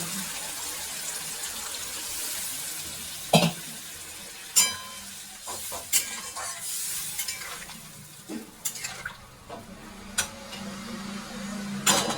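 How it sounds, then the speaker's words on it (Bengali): Water goes into an egg curry cooking in a pan, bringing a soft, steady sizzle and bubbling with occasional sharp clinks and scrapes of stirring, fairly quiet and without talking. "এবার আমি জলটা দেব।"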